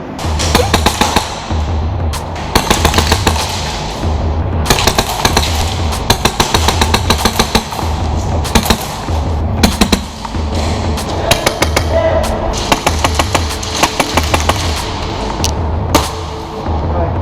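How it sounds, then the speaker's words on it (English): A Wolverine Inferno Spartan Edition HPA airsoft gun fires in rapid bursts and strings of shots, loud and close, with sharp repeated snaps separated by brief pauses and no talking. "We can just reassemble this gun and put it together and try test firing it."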